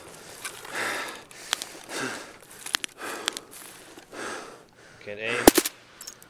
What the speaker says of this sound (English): Ooh, I'm getting shot at.